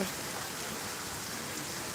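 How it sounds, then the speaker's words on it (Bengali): Heavy rain pours steadily on a night street outside a medicine shop, a dense, even hiss of drops that stays constant and fairly close with no voices. "একটু পর পর জোরে জোরে বৃষ্টি নামতেছে"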